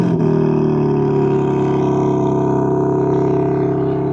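The engine of a 2026 BMW M3 Competition xDrive with quad-tip dual exhaust starts by remote start, firing with a sharp catch and then settling into a loud, steady, deep idle rumble.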